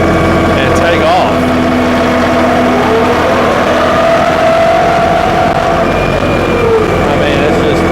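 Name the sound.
New Holland Workmaster tractor engine pulling away from a stop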